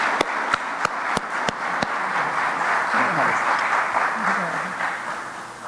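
Warm audience applause greets a speaker arriving at a talk, a few sharp distinct claps first, then a dense steady wash of clapping with faint voices mixed in underneath.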